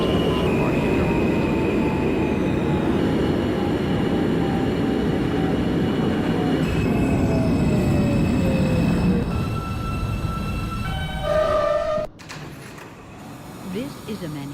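An R160 subway train on the R line, simulated in OpenBVE with a New York City Subway setting, runs with a steady loud rumble and whining motor tones. The tones shift as it moves, then cut off sharply near the end.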